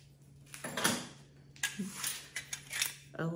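Small kitchen utensils, a little beater, knife and spoon among antique dealer's auction lots, clink and rattle as they are handled, with several close metallic clatters spread unevenly over a few seconds.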